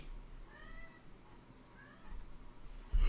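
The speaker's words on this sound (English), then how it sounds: "Kitty!" A cat meows twice in a short, faint, whiny rising call over quiet background hiss, followed by a sudden thump at the end.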